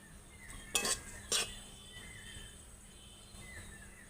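A metal pan of fried mustard paste is lifted off the stove, with two sharp clinks of metal close by and then quiet kitchen background.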